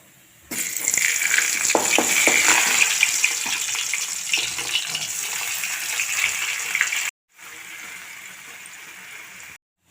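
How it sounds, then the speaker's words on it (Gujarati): Tomato and garlic chutney hitting hot oil for a tempering, giving a loud, steady sizzling hiss that runs for several seconds, breaks off briefly, then resumes more softly. "તેનો વઘાર કરીશ."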